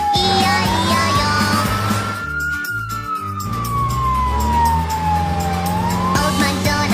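A loud wailing siren sweeps slowly up and down in pitch, close by, with a deep engine rumble beneath it and no talking.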